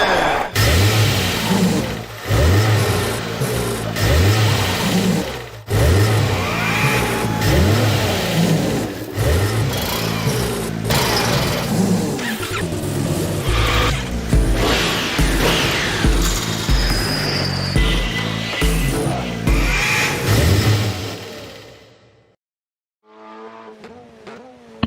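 Race car engines in the Honda Racing Simulator video game, loud revving and accelerating with repeated gear-shift surges for over twenty seconds, then an abrupt cut to near silence before a short tail of engine tone returns.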